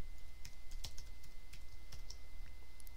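A password is typed on a computer keyboard during a Drupal database setup: a quick, uneven run of close, crisp keystrokes over a low steady hum, with no voices.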